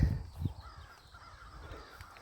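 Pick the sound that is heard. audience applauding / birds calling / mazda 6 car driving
birds calling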